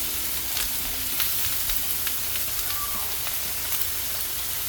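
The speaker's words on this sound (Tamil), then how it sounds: "பொறிச்சிட்டு ஸ்லைஸாக வதக்கி வச்ச கேரட்டை ஆட் பண்ண போகிறேன்." Sliced carrots fry in hot oil in a pan, giving a loud, continuous crackling sizzle with scattered sharp pops throughout and no voices.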